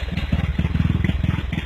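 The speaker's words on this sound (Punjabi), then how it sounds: "ਇਹ ਆ ਵੀਰ ਕਾਲਾ, ਇਹਨੇ ਬਣਾਇਆ ਟਰੈਕਟਰ ਦਾ ਹੀ ਇਹ" A homemade tractor's engine chugs close by with a fast, steady, uneven clatter of firing pulses, loud and continuous with no talk over it.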